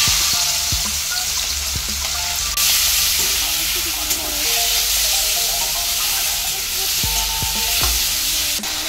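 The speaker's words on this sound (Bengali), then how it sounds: "এই সর্ষের তেল দিয়ে একটু চিংড়ি মাছটা হালকা করে ভেজে নেওয়া হবে।" Shrimp frying lightly in mustard oil, a steady loud sizzle with bursts of crackle and occasional stirring clinks throughout, no talk.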